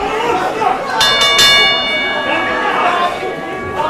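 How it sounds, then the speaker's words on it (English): At a professional wrestling event a referee's ring bell clangs in a quick cluster of strikes with a ringing tone that fades, over loud arena crowd noise and a commentator talking. "There is the bell for this special contest"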